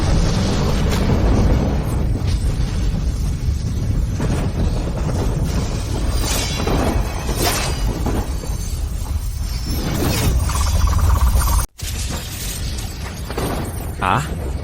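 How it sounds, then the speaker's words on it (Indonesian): Animated fantasy swordplay in which a thousand sword strikes explode together: a dense, loud barrage of crashing bursts and whooshes that surges repeatedly, cuts out abruptly near the end, then returns as a lower rumble. "Ribuan jurus pedang meledak."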